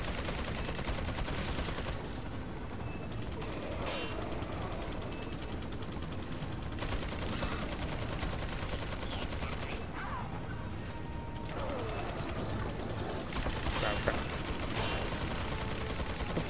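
Mounted turret gunfire in the video game Resident Evil 4 rattles in rapid, continuous machine-gun bursts with brief lulls, mixed with mechanical clatter, loud and sustained throughout.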